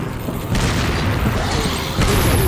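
A grenade detonating in Resident Evil 4, heard as a loud sustained rumbling boom with a fresh surge of blast noise partway through.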